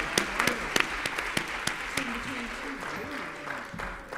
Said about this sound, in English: Let's have a big round of applause for the panel.